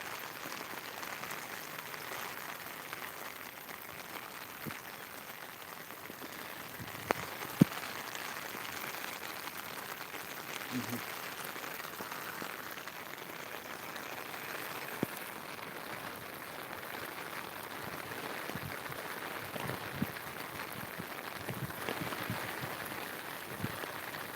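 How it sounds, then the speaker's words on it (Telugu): Steady rain falls across an Indian village under rising clouds, a dense, even hiss of drops on surfaces that continues without a break for the whole stretch. "వర్షం చూడండి ఆ మబ్బులు చూడండి ఎలా లేచింది"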